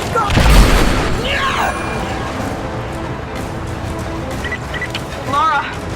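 Gunfire in Rise of the Tomb Raider: a loud boom near the start, then continued game noise with speech-like voice sounds and scattered effects throughout.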